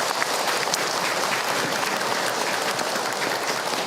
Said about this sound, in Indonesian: Tepuk tangan buat para ayah.